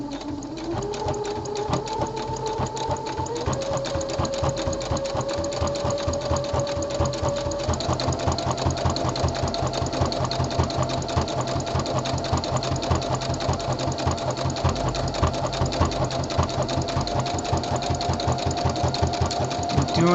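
A sewing machine running steadily at a set stitch length of 3, top stitching a construction seam on a sports garment, a close, loud, fast continuous mechanical hum and rattle with faint pitch changes as the speed shifts.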